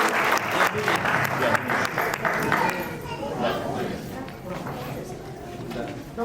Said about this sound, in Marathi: डॉक्टर साहेबांसाठी जोरदार टाळ्या.